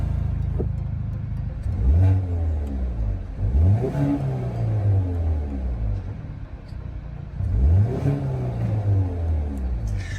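A Hyundai i30 N engine revs repeatedly, each deep, bassy roar climbing and falling in pitch, three strong surges with idling rumble between them.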